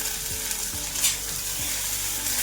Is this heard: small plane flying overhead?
no